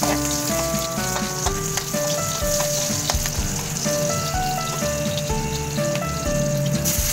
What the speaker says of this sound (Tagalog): Gigisa na natin yung ating sibuyas, saka bawang